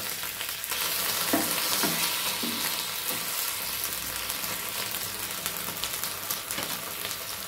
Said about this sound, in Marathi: आता उलट पालट आपल्याला करून घ्यायचे हे